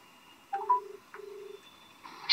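A phone call is dialed, giving a few short electronic tones in quick succession that are faint and close, followed by a brief, louder tone at the end.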